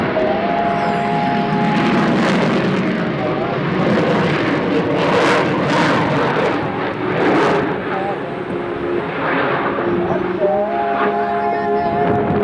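A CF-18 Hornet fighter jet passes at an air show, a loud sustained roar rising and falling with several surging peaks, while an announcer talks over it.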